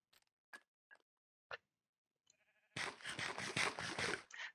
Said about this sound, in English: Let's get the other sheep.